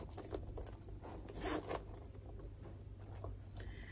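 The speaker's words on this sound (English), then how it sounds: "So the bag has two zippers." A zipper on a Coach chain crossbody purse is pulled in a few quick, faint rasping strokes close by, with soft rustles and crinkles of the bag around it in a quiet room.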